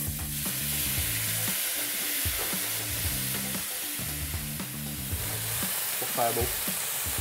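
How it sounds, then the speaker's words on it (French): Hot pan deglazed with Quebec apple brandy, a loud steady sizzle and hiss with rhythmic stirring scrapes close by, while a person speaks briefly. "déglacer avec... Un petit brandy de pomme québécois"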